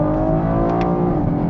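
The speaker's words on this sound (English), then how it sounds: "this exhaust engine setup that Chevy did this time around has one advantage over the last gen V6, and that's that the exhaust note sounds much more refined" A 2016 Chevrolet Camaro V6 rumbles close by with a smooth, low exhaust drone, its pitch rising and falling slightly as the engine revs for a moment.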